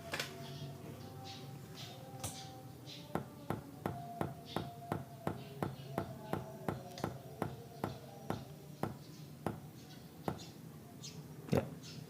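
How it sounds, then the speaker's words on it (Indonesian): A Polytron PAS79 speaker with a no-sound fault gives a steady series of sharp, evenly spaced taps after its power switch is turned on. About twenty knocks come roughly every half second, close and clear over a faint hum. "ada suara bunyi ketukan dari speaker, itu menandakan bagian power supply bekerja"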